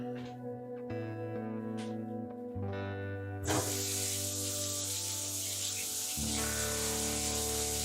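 After a low humming start, a nearly empty aerosol can sprays with a loud, steady hiss for several seconds, close and uninterrupted, during skylight work.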